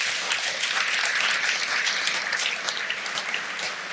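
An audience at a cultural talk on democracy applauds, a dense, steady clapping that fills the room from start to finish.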